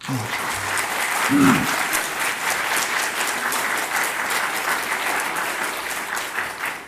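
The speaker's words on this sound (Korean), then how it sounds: "박수 한번 하시죠." A hall audience at a church reading gathering bursts into steady applause, dense and sustained for several seconds with a brief louder swell early on, while voices murmur faintly underneath.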